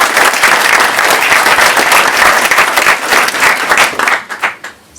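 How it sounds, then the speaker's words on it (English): Loud, close applause from a WebAssembly meetup audience in Munich fills the room, a thick rush of clapping that breaks into scattered claps and dies away in the final second. "Big round of applause."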